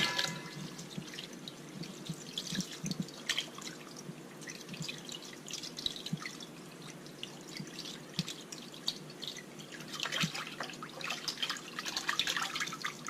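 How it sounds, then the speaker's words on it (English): Water from a sink faucet rinsing a cleaned fish, a steady close trickle and splash with irregular drips, running continuously without speech. "And now we're going to give it one last rinse."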